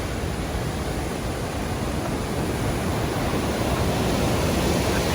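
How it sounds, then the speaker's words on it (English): River water rushing powerfully just above the Ulafossen waterfall in Norway's Rondane mountains, a dense, constant roar with no break or voices. "Powerful flow of the water under there before it plunges off Ulafossen"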